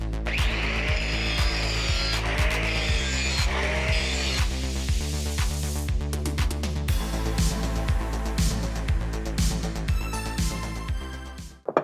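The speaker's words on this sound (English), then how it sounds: "attaches to the angle grinder, and then it allows me to make the same cut over and over again until that blade is nice and sharp" An angle grinder without its guard sharpens a Walker MT23GHS mower blade, its steady harmonic whine running close and loud throughout with a rhythmic pulsing, ending abruptly.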